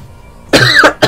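A single sharp cough bursts out near and loud after a quiet lead-in, followed moments later by a second shorter cough, with no talk around them.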